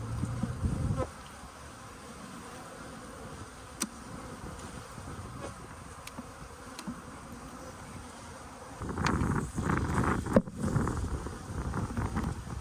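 A dense swarm of angry honey bees buzzes inside a chimney during a removal, a steady close drone with wind noise on the microphone and louder bursts toward the end.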